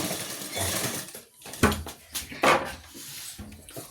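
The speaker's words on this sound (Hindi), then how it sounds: "अब इस तरह से हम सिलाई लगाएंगे।" A sewing machine stitches elastic onto palazzo pants, its motor running in close, uneven bursts with brief pauses between runs and no talking.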